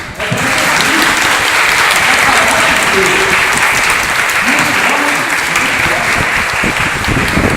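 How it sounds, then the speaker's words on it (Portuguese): A church congregation claps loudly and continuously, a dense, sustained round of applause from many hands filling the room. "Eu pedi para os irmãos para dar uma salva de palmas para a palavra do Senhor"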